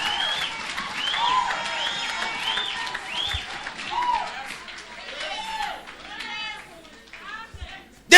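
A church congregation claps and cheers at a steady level under a preacher's voice, with scattered children's voices and a sharp loud hit at the very end.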